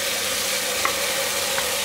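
Minced keema frying in a hot pan as tomatoes are added for a Pakistani keema matar pulao, giving a steady, close sizzle with a couple of faint soft clinks and no talking.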